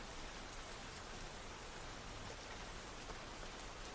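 Steady, dense rain pours down without pause, a constant wash of drops hitting surfaces, even and close, with no voices.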